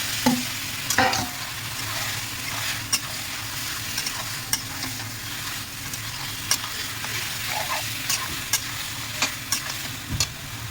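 Marinated country chicken and masala are stirred in a hot pan, a continuous loud sizzle broken by repeated sharp spatula scrapes and knocks against the metal at an irregular pace.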